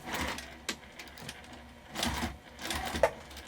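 A sewing machine back stitching a tote bag made from a jelly roll runs in short, quiet bursts with pauses between, a soft mechanical whir that starts and stops at close range.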